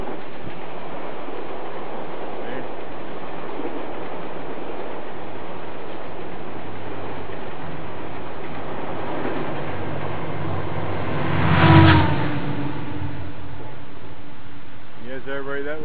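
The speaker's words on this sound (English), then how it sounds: "here comes one of our GO trains. It's just left the exhibition stadium." A GO Transit commuter train passes near Exhibition station in Toronto, a low rumbling roar under wind and outdoor noise that rises to a short peak and then eases off.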